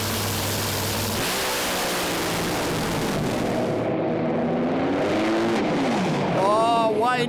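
A unique Sainty three-valve-per-cylinder top fuel dragster engine runs at Sydney Dragway, a loud, continuous close-up roar whose pitch sweeps up and down as it revs, with a crowd present.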